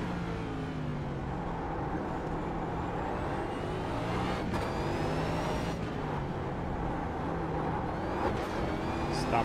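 A NASCAR race car rumbles steadily nearby and sweeps through rising and falling engine pitches as it shifts down, with a few sharp transient pops along the way.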